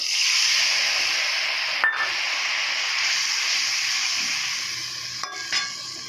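A steady, loud sizzle as ground mustard paste goes into a hot pan with fried nigella seeds and green chili in Bengali home cooking, an even frying hiss with a few faint clinks of a utensil.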